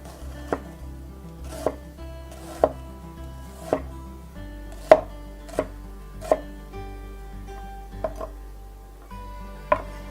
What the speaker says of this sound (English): Slice it thin.